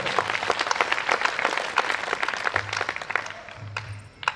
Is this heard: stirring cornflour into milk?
no